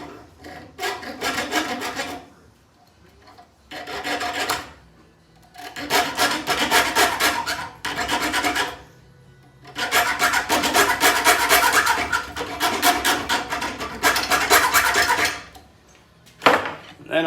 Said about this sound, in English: Start my cut with the hacksaw.